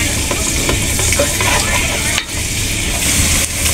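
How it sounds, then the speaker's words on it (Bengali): Sliced onions sizzle steadily in hot oil as they are fried for biryani, a loud continuous crackle close up with occasional stirring scrapes. "পেঁয়াজটা দিয়ে দেই বেরেস্তা করবার জন্য। তাহলে তেলটা দিয়ে দেই।"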